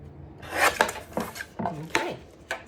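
A paper trimmer slices cardstock for a card layer, a series of close, crisp cutting strokes and light clatter from the blade, about five distinct swipes with no one talking.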